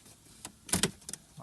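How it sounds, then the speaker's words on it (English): The stereo and heater trim panel of a 1999 Subaru WRX pops off its retainers in a quick pair of sharp plastic clicks, followed by a couple of lighter snaps, close and fairly quiet. "the top of the stereo and heater trim panel just pops out on some retainers"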